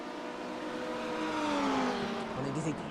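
LMP prototype race cars in a racing video game at Daytona sweep past with a steady engine roar and a falling pitch as they go by, while a commentator talks over the noise.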